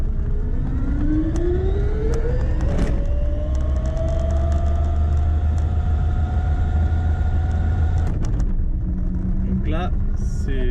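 A small electric motor for a compact electric car or motorcycle runs at speed three, around 55 km/h, giving a steady loud whine with rising tones and a constant low hum, plus a brief clunk near the end.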